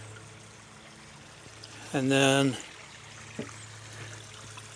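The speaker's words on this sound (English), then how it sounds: "where the water's coming off of the stream up there" A stream of water runs and trickles steadily near a trail to a cave in Byrdstown, Tennessee, a constant soft wash under a man's brief speech.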